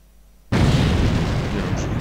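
An artillery shell detonates in the Sudden Strike 2 strategy game, a sudden loud boom cutting in from near silence and rolling on as a sustained rumble, with speech layered over it.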